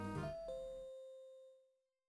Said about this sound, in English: Then the doorbell rang again.